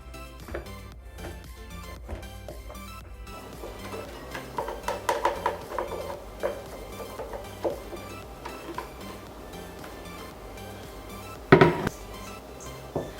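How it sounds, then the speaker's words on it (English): Rice being shaken and stirred in a container while making fresh chewy Korean rice cake, with a steady rustling and clinking rattle throughout, denser in the middle, and one sharp knock near the end. "Shake or stir here and there to get all the rice stuck in the corner."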